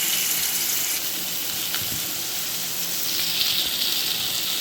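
Chili-coated fish frying in hot oil: a steady, loud hiss of sizzling oil, close up and unbroken, with no voices.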